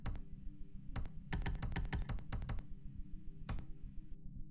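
Typing on a computer keyboard, bursts of quick close key clicks with short pauses between runs, fairly loud and alone without talk.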